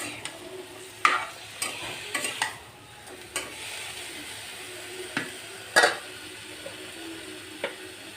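Pumpkin pieces with turmeric being stirred as they fry in a pan: a soft low sizzle under repeated spatula scrapes and clacks against the pan at irregular intervals, close and fairly quiet.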